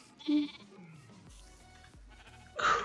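Sheep in the video game Minecraft give two short bleats, one near the start and one at the end, with quieter game sounds between them.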